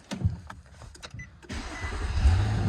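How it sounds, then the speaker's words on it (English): A 2009-2014 Nissan Maxima with a suspected alternator fault cranks and starts, a short mechanical whir giving way to a steady low idle rumble that swells slightly, heard close up with no talking. "so we start the car"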